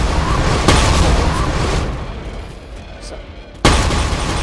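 Gunfire from a Wind Staff weapon in Black Ops zombies during a Bone Lab fight: a loud, sustained burst of explosive blasts with a sharp new boom near the end, and a brief voice at the start.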